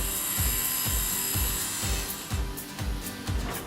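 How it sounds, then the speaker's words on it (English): A machine planes and cuts wood pieces for laminated door stiles and rails, each pass producing a repeated thudding, whirring stroke at a steady rhythm of roughly two per second, close and loud. "Pieces of wood are planed and cut to the necessary size."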